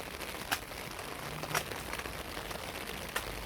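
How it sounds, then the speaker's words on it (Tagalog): Steady rain falls outdoors as a continuous broadband hiss, with a few sharper drip and crackle ticks standing out. "It's raining, guys."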